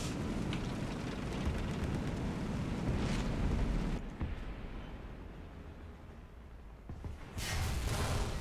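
Artillery shells burst in the tank game War Thunder, a loud rumbling roar swelling and fading with a brief lull before another explosive rush, no voices over it.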